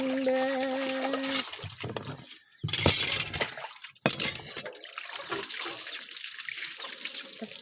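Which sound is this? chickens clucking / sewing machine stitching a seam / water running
water running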